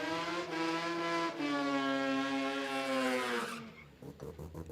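A rotary-engine race car screams at high, steady revs with a harsh, raspy tone, then drops off and crackles as it passes and fades.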